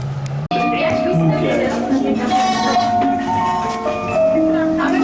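Goat bleats at the Seven Little Goats fairy tale attraction at the Efteling park, wavering tonal cries mixed with music and animatronic sounds, under nearby talking.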